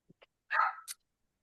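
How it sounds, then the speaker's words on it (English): A pet dog gives a couple of tiny yips followed by one sharp, close bark and a short high squeak, alone in an otherwise quiet room. "There's my pupper, Mars's dogs."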